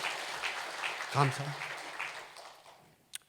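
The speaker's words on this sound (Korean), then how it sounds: "우리 박수 한번 합시다" Church congregation applauding during a sermon, a broad wash of clapping under a preacher's voice, briefly swelling and then fading out.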